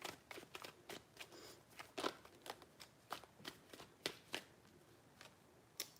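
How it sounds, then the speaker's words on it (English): Tarot cards shuffled by hand, a run of quick, crisp riffling flutters and soft slaps at close range, irregular in rhythm and fairly quiet, with no talking. "Three shuffles."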